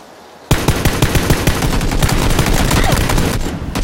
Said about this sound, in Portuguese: Eu não acredito que a minha arma tava no single shot, cara.